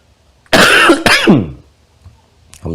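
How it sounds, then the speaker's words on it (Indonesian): A man coughs and clears his throat in two harsh, loud bursts close by during a Ramadan lecture on the Quran, followed by a faint short noise after a pause. "Saya sudah minta izin di awal ya untuk diselingi dengan batuk"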